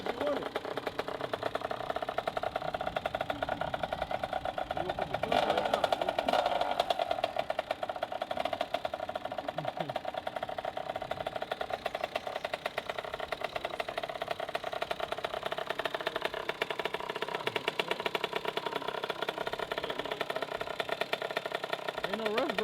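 A Kawasaki KX65 dirt bike engine idles steadily at close range for over twenty seconds, a continuous mid-pitched hum with light rattle, while people talk intermittently nearby.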